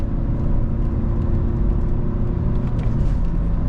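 A Volkswagen Caddy 2.0 TDI diesel with 347,000 km on the engine climbs a hill in third gear, giving a steady loud low rumble and drone heard from inside the cabin, with no talking.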